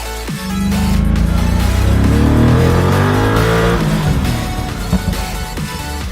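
A fast car with a single-clutch gearbox roars close up, its engine note climbing hard through rising revs, then settling into a loud steady drone with a faint tire squeal near the end.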